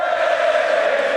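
A packed arena crowd at a 2016 League of Legends All-Star semifinal roars in a steady, sustained wall of cheering, dense and continuous with no individual voices standing out.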